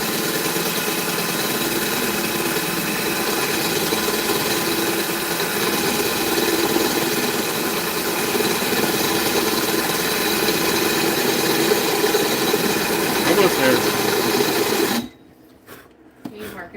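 A steady motorized drill whirs continuously for a long stretch, droning and slightly rattly, then cuts off abruptly near the end, leaving quiet.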